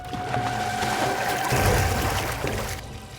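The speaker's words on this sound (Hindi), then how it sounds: "पानी की आवाज?" Water running and splashing at a crime scene in a CID drama, a continuous rushing, pouring sound that swells in the middle and then cuts off abruptly.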